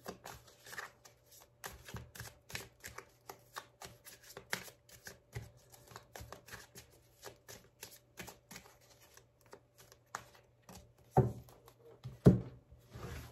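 Tarot cards are shuffled by hand in a series of quick, crisp riffles and taps that recur irregularly, with a couple of louder snaps near the end and no voice.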